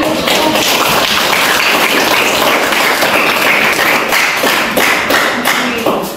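A class of eighth-grade junior high science students claps together in a classroom, loud, dense and continuous, with sharp individual claps standing out near the end.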